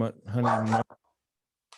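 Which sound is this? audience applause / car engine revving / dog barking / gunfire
dog barking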